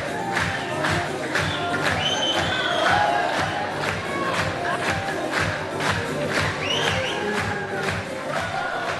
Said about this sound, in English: takes the stage to a wave of applause.